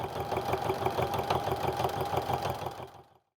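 A sewing machine topstitching the side of a fabric crossbody sling bag, running in a fast, even mechanical rhythm up close before stopping abruptly.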